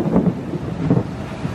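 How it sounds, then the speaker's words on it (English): Thunder rumbles through a Florida summer afternoon, a low rolling roar with wind buffeting the microphone, swelling twice over under two seconds with no talking. "Woo, that's a good thunder."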